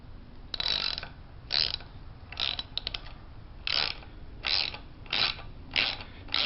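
A socket wrench drives a screw into the wood of a wooden swing set: bursts of close ratcheting clicks, about eight strokes at an uneven pace, with no talking.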